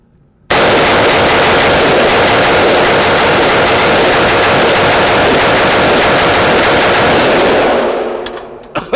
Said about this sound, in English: I can't say I've ever done a seated mag dump, so let's see how this goes